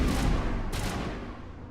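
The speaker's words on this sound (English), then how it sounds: "I'm pretty sure there's a grenade right on my feet." A grenade goes off right at the player's feet in Mass Effect Legendary Edition: a loud, close blast that rumbles for well over a second, with a second burst partway through as it fades.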